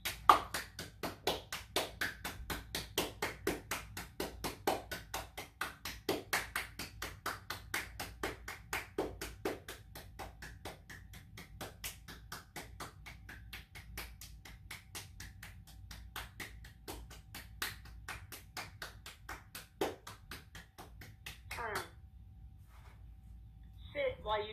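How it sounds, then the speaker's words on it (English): Hands clap in a long run of sharp, evenly spaced claps during a dog relaxation training session, fairly close and crisp, then the clapping stops and a few quieter sounds follow. "Sit for 20 seconds while you clap your hands."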